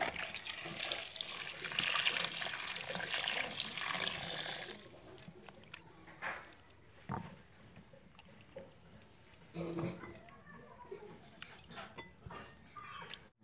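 Raw wood apple (bael) being rinsed under a running kitchen tap, a steady loud rush of water for the first few seconds, then scattered splashes, drips and handling clatter.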